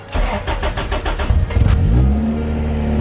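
2000 Honda Prelude race car cranking with rapid starter clatter for about one and a half seconds, then catching and settling into a steady, close idle hum.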